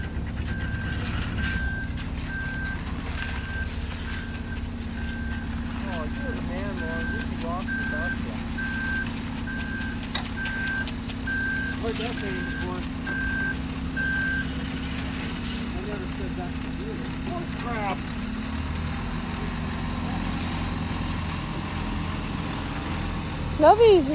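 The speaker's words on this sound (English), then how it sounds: "you don't like the beeping truck? It's okay. It has to beep to back up." A big truck backs up with a steady run of evenly spaced reversing beeps over the low rumble of its idling engine, then the beeping stops partway through. Voices are heard faintly nearby.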